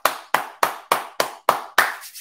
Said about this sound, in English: that's why you see me clapping